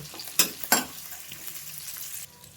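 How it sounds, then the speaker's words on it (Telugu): Curry leaves hit hot oil in a pan with two sharp sizzling bursts, then fade to a soft, steady fry as they are stirred; no voices. "ఒక్కరేమో కరివేపాకు వేసి బాగా కలుపుకోండి"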